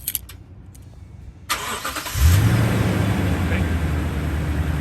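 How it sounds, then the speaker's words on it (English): A Toyota Tundra pickup starts by remote: a few faint clicks, then the engine cranks and catches partway through. It settles into a steady, close idle rumble. "we'll remote start the vehicle."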